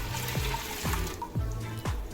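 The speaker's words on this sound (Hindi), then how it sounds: "कुकर में मैं ऐड करूंगी 1 लीटर पानी" About one litre of water pours into a pressure cooker, a continuous close splashing stream with a few sharp drips and gurgles, quiet and unaccompanied by talk.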